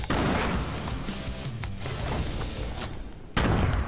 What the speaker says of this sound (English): Looks like we're being sniped from the house.